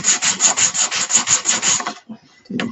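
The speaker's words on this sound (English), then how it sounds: "I'm just going to give it a little bit of a sand." Sandpaper rubs by hand over painted wooden tumbling blocks in quick, close, even back-and-forth strokes, about a dozen in a row, then stops briefly before one more scratchy pass.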